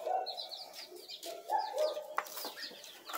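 Chickens cluck and murmur close by in a quiet tool shed, with short repeated soft calls and a sharp tap partway through.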